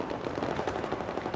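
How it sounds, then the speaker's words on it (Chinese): Automatic gunfire in a Battlefield 4 multiplayer match: fairly faint, rapid bursts of shots rattle on without a break, heard at some distance. "他们开枪"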